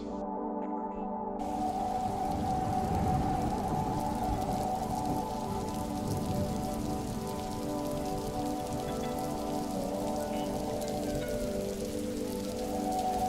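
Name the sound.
light drizzling rain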